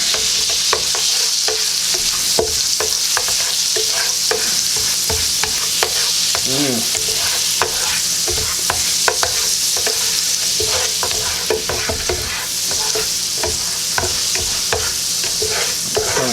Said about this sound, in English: we're gonna let the garlic brown just a little bit